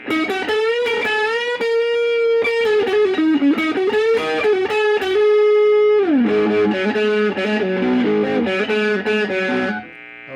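A Steve Brown Sound SBS VS300 HSS electric guitar plays with overdrive, a gritty distorted tone strumming chords and riffs, loud and continuous, ending with a sustained ringing chord.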